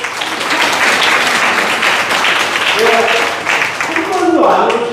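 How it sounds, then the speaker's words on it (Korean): Crowd applause at a political party's provincial chapter chairperson inauguration ceremony, steady sustained clapping filling the room, with voices rising over it near the end. "자, 여러분 큰 박수 좀 주세요."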